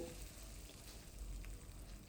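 Mustard seeds sputter and pop in hot oil as tempering begins, a faint, steady crackling sizzle with scattered small pops, heard close and alone.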